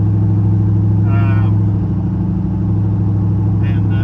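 A 6-liter V8 car engine while driving, a steady, loud low drone that stays constant throughout, with a voice briefly speaking over it.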